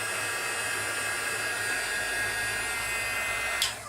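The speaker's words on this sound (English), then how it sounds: "I'm trying to talk over the dryer." A hair dryer drying glitter on a vellum craft piece blows with a steady, loud whooshing hiss that continues unchanged, then a short click near the end.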